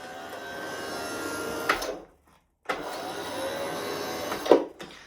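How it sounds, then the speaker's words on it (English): Sanitaire Tradition SC679K heavy-duty commercial upright vacuum cleaner acting up, a loud steady motor roar that cuts out abruptly, restarts after a short gap, then gives a harsh clunk near the end. "Oh no, I think I broke the hoover."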